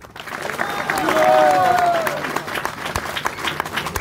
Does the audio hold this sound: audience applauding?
yes